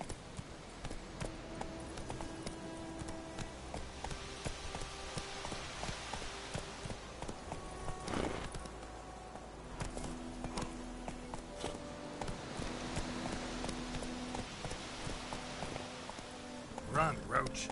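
Horse hooves clip-clopping at a run in the video game The Witcher 3: Wild Hunt, a quiet rhythmic beat mixed with rain-like patter and ambient game sound, with brief game dialogue.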